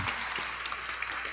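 Church congregation applauding during a homily, a steady wash of many hands clapping together at moderate volume.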